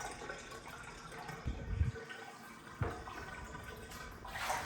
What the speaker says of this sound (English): I'll drain all the dirty water and I will do it all again.